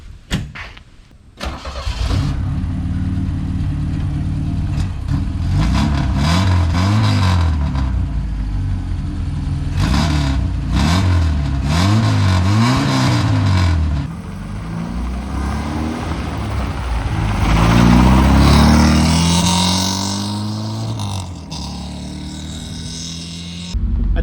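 A Saab 95/96 engine revs hard while the car drives along a road, loud and close, the pitch climbing and falling through repeated gear changes, with a sustained high-rev surge near the end.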